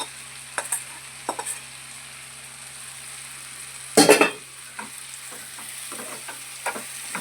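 Dried fish tipped into an eggplant and egg curry sizzles in the pan, with a steady low fry, light stirring scrapes and a loud burst of sizzling as the fish hits the hot oil midway.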